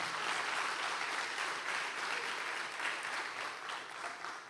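Applause from a church congregation during a worship service, a steady wash of many hands clapping at even volume throughout, fairly distant and filling the room.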